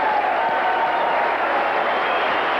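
A large crowd of UPS Teamsters (drivers, mechanics and package sorters) at a union rally, giving steady, dense cheering and applause that fills the space evenly from start to finish.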